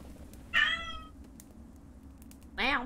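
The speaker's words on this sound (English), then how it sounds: "Wow, my cats have a lot to say this morning." Cats meow in the farming sim game Clanfolk, two distinct calls about two seconds apart, each clear and moderately loud over a low background hum.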